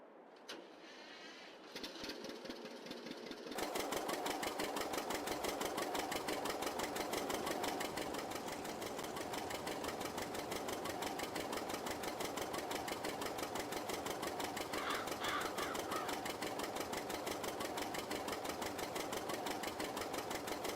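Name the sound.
John Deere 620 vintage tractor engine running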